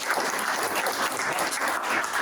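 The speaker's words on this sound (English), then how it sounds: "Can we get a round of applause for you guys?" Audience at an in-person post-pandemic gathering gives a round of applause, dense and steady clapping from a crowd heard up close, loud and continuous throughout the short clip with no talking.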